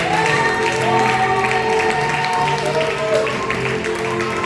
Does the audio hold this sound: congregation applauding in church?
yes